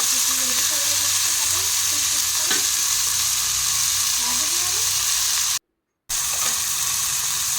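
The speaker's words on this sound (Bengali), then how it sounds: "তো সবগুলোকে একবার ভেজে নিয়েছি।" Chopped green chili, tomato and other ingredients fry in a pan with a steady, loud, close sizzle and occasional stirring scrapes. The sound cuts to silence briefly near the end.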